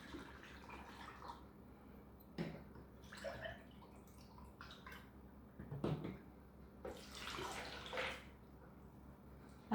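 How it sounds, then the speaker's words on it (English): Almond milk poured into two blenders, a quiet liquid splashing and gurgling in separate bursts with short drips between pours, close but soft, with no talking. "I'll be adding 1 cup of almond milk into each of the blenders"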